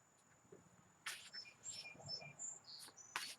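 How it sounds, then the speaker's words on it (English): A sparrow sings while perched on bamboo in a garden in Wareham, Massachusetts, giving a few short, high chirping phrases against a faint insect hum in the background. "I think it's a sparrow."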